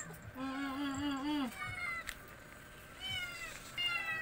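Cats meow repeatedly for cat treats, with one long, wavering meow followed by several shorter ones, close and loud, with faint talking in the background.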